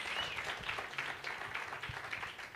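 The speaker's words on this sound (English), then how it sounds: "Let's give that a round of applause." An audience at a live chat event applauds, a fairly quiet, distant patter of clapping that holds steady throughout.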